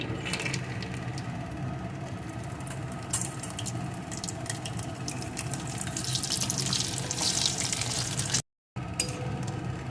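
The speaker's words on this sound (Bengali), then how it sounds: "এখন ওই তেলের ভিতরে কয়েকটা ডালের বড়িকে ভেজে নেব" Lentil dumplings (bori) fry in hot oil left from frying fish, giving a steady, close sizzle with bursts of crackling and spitting throughout.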